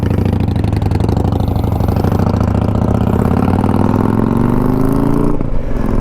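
A 2021 Honda Africa Twin DCT motorcycle engine runs steadily and loud, its pitch climbing gradually as the dual-clutch transmission shifts automatically through the gears, before a brief drop near the end.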